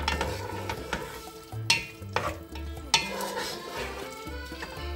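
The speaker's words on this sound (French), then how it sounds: "Je mélange" A spoon stirs Italian pizza sauce seasoned with sugar, salt and pepper in a pot, making repeated scraping sweeps and light clinks over a low simmering bubble.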